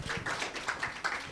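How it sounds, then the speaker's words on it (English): Audience applause for a professor at a regional policy forum on financial inclusion, a short burst of moderate, rhythmic clapping in a hall. "Another round of applause for Professor"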